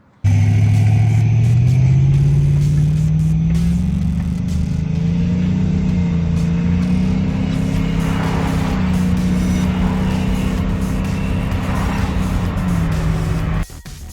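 An LS-swapped Cutlass cruises on the highway with a continuous engine drone and road roar that rises briefly in pitch early on, then holds steady and close throughout.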